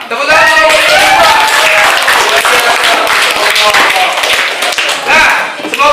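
A class claps for a presenting student group, dense clapping filling the whole stretch with voices mixed in and talk rising over it at moments.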